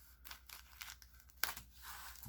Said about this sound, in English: Get my trusty scissors here, my card opening scissors